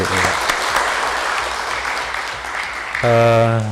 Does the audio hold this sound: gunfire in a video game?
no